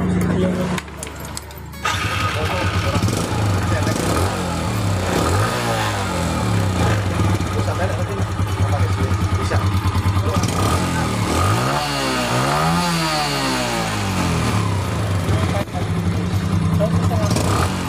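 A Yamaha Jupiter Z motorcycle engine idles steadily up close during carburetor adjustment, rising in a couple of revs before settling back, with someone talking over it.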